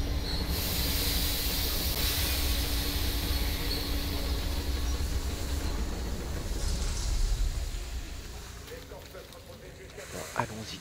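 A rotating train turntable in the video game Metro Exodus starts up with a heavy, continuous rumbling grind and metallic hiss. It eases off near the end as a brief clank sounds.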